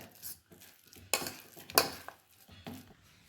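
Cooked, drained chana dal being mashed in a pan for sweet kozhukattai filling, heard as a few irregular scraping and clinking strokes of a utensil against metal, close and moderately loud with quiet gaps between.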